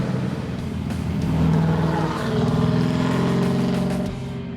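A loud, deep engine drones from an OBS Chevrolet SS truck with a 632 cubic inch big block making over 700 wheel horsepower. It swells while cruising and stays steady and close throughout.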